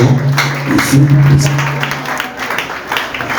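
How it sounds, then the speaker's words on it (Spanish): A church congregation at an evangelistic service applauds, a burst of clapping that swells early and then thins out, mixed with voices and a held musical tone. "El aplauso fuerte al Señor."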